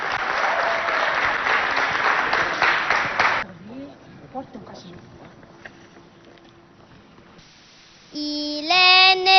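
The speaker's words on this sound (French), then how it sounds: "On applaudit bien fort." Loud audience applause at a televised Christmas show in Chad lasts a few seconds and then stops abruptly. Quieter scattered sounds follow, and a sustained musical tone begins near the end.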